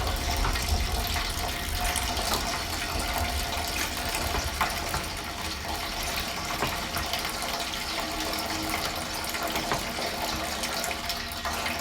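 Apple juice runs steadily from a cider press in a small home setup as the apples are pressed slowly through muslin, a continuous close gushing, splashing flow that stays loud and even throughout, with no voices.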